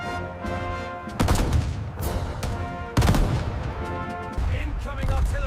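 Sustained machine gun and artillery fire rage through an animated WW2 battle at Wizna, with dense rapid bursts and heavy booms hitting at intervals, loud and continuous with shouted voices mixed in.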